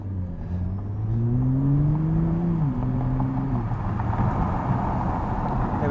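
A Nissan GT-R engine revs and climbs through the gears while racing a Tesla Model S up to 50 mph, its rising drone loud and steady with a clear gear change partway, backed by road and wind roar.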